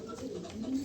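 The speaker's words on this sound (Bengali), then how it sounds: "এই দেখেন একটা কবুতর" A female pigeon gives a faint, low, drawn-out coo close by in a quiet room, with a soft voice murmuring faintly underneath.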